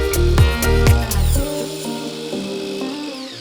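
A power saw cutting wooden pieces to size for the top, bottom and sides of a box: a loud, steady motor whine with strong tones that drops in pitch partway through.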